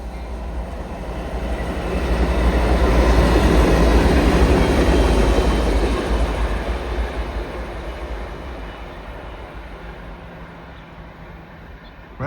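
A train with two locomotives rumbles steadily past nearby in falling snow, loud and continuous, swelling to a peak and then slowly fading as it moves away.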